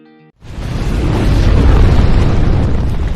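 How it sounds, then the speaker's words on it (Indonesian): A plane explodes in the film Black Widow: after a brief quiet moment, a massive, loud boom bursts in and rolls on as a sustained roar of blast and debris. "pesawat tersebut akhirnya meledak dan Dreykov mati di dalamnya"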